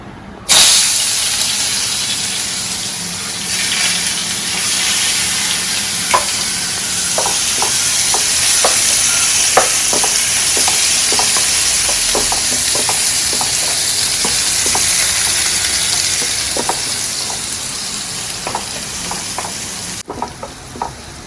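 Onion frying in coconut oil for a chicken roast gives a loud, continuous sizzle. Frequent clicks and scrapes from stirring run through the middle of it, and the sizzle stays strong for about twenty seconds.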